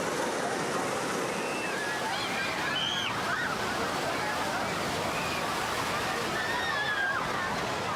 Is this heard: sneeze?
no